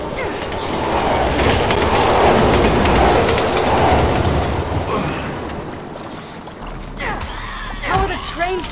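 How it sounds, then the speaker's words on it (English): A train rumbles past loudly in the video game Resident Evil 6, a heavy rolling roar that fades toward the end as voices and game sounds take over. "How are the trains still running?"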